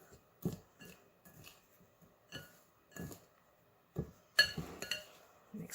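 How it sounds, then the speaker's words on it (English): Bath bomb mixture being stirred and pressed in a bowl for mini candy-shaped bath bombs, giving irregular scraping and clinking bursts of utensil against the bowl, close and fairly quiet, with pauses between strokes. "Mix that all in really good."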